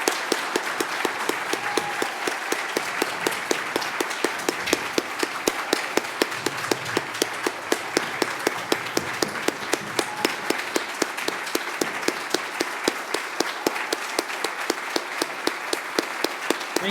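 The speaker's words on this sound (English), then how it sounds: "So let's have a round of applause for Ukraine." Sustained, dense applause from a conference room audience at a technology awards event, standing and clapping for Ukraine, a steady even roar of many hands lasting the whole stretch without speech.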